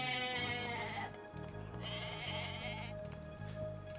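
Goats bleating in the strategy game Age of Mythology, several wavering cries in quick succession over a busy game soundtrack, loud and close.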